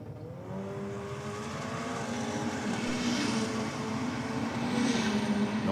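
A Toyota Hilux ute launches hard down a drag strip, its engine droning loud and steady as it pulls away, with a broad rising roar and constant noise throughout.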